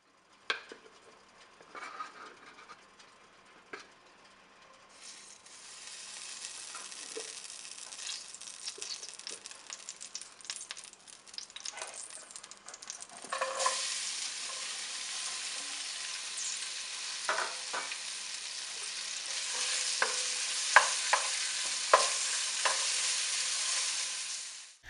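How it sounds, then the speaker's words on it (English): Vegetables frying in coconut oil for vegan pasta, a steady sizzle that grows louder partway through, with occasional stirring scrapes and utensil clinks against the pan, no talking. "you're pretty much going to cook the vegetables down for about 5 minutes or so"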